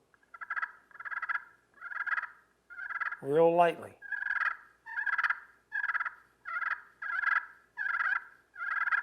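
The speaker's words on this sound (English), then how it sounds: "You drag the striker across the sound chamber" A friction turkey call, striker dragged across the sound chamber, gives repeated steady evenly spaced clucking notes broken once by a short rolling purr, close and clear with a few quiet words spoken.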